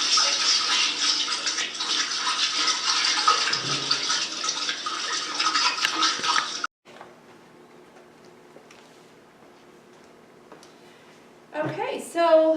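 An infant splashes in bathtub water at home with the mother, a steady wash of splashing for several seconds, then quieter room sound with a few small noises and voices returning at the end.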